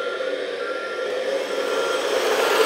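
A HUINA Kabolite K3364 1/14-scale 6x6 hydraulic RC dump truck with two-speed gearing makes a steady, fairly loud motor whine with a slight rise in level as it brakes.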